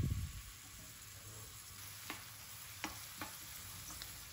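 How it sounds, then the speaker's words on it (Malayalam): Chopped onion for Mumbai-style pav bhaji fries in a pan with a faint, steady sizzle. A few soft clicks and ticks come from the pan, and no one speaks. "ചെറുതായിട്ട് മുറിച്ച സവാള ഇട്ട് കൊടുക്കുക."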